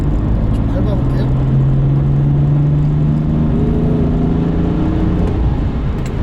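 A BMW M4 accelerates hard, its engine droning in a steady, rising tone heard from inside the cabin as it pulls forward.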